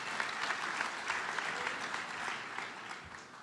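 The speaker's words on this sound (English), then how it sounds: "Thanks for the applause." A conference audience gives dense, even applause for a tech talk, heard as a steady wash of many hands clapping for a few seconds.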